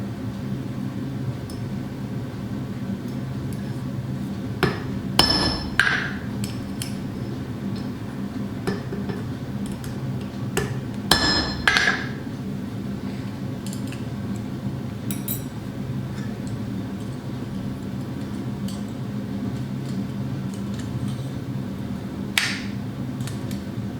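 Sharp metallic hammer strikes ring out sparsely while a custom Yggdrasil pendant is forged, a few clustered blows standing out over a steady low background hum.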